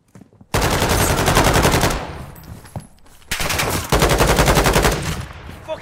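Automatic weapon fire in Call of Duty Warzone's DMZ mode, two long loud rapid bursts separated by a short quieter gap with scattered single shots.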